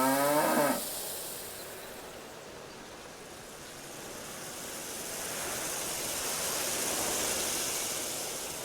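Cattle at a farm in the railroad-building game Railway Empire 2 give one short moo at the start, then a steady wash of ambient game noise like wind or distant surf continues alone.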